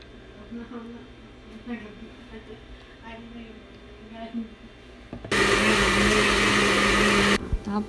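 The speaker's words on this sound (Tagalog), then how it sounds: "Tapos, ilagay natin sa isang blender." A loud, steady mechanical whir of a blender mixing curry and cooking cream starts abruptly after background talk and runs for about two seconds before cutting off.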